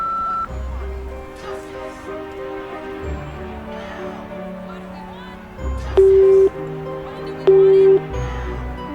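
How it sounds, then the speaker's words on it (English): Two short, steady electronic answering machine beeps in a Nancy Drew video game sound a second or so apart, following a stretch of music and game sounds, with talking around them. "Anyone else is welcome to leave a message after the beep."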